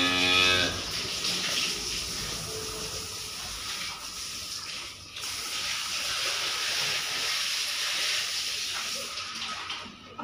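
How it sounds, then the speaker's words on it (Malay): Cattle moo inside a barn after being fed a wet mash, giving loud, drawn-out calls over a steady hissing background with no talking. "nah ini sapi-sapinya baru dikasih comboran ya"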